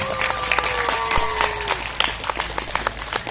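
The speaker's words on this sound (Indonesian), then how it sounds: "tepuk tangan untuk santri MTS" Applause from an audience at a Maulid Nabi gathering in a prayer hall, greeting students of an Islamic junior school after their sung salawat; steady dense clapping with some crowd noise and a brief tonal sound at the start.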